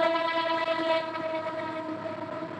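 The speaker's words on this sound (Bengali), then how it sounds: "ট্রেন যাচ্ছে।" A train rolls past beneath an elevated expressway, heard from above as a steady mechanical rumble with sustained horn-like tones, even and continuous throughout with no talk.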